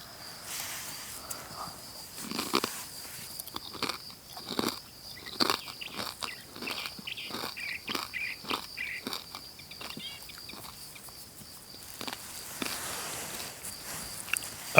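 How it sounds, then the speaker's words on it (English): Crisp crunching of someone eating a potato chip, close and fairly quiet, a steady series of sharp bites and chews spread over about fifteen seconds with no talking. "Sorry for the crunching, if you can hear it. I'm eating a potato chip."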